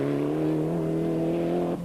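A Mitsubishi Lancer Evo rally car holds a steady, loud engine note at high revs while driving a Cape Rally stage, with the pitch dipping briefly at the very end.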